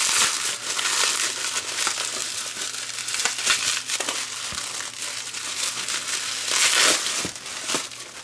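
Cord being cut and a mystery package opened by hand, with continuous loud crinkling and crushing of wrapping, scattered sharp snaps and tearing sounds throughout, no talking.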